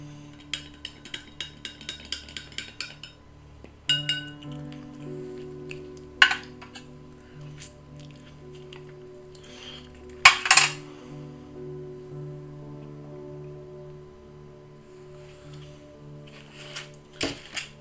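A spoon clinks and scrapes against a glass while stirring an MRE beverage in short bursts, with quiet pauses and a few louder taps between the stirring.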